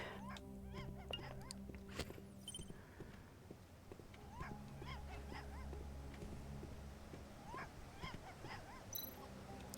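A small dog whimpers in the video game Tales of the Neon Sea, with brief rising and falling whines scattered over steady game music and ambient tones.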